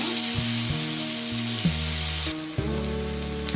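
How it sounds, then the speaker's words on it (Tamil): Steady sizzling of shallots frying in a pan, continuous and close, with tonal music playing underneath. "சின்ன வெங்காயத்தை அது கூட சேர்த்துக்குவோம். நல்லா ப்ரௌன் கலராக அவ்வளோ வரைக்கும் வதக்கிக்கணும்."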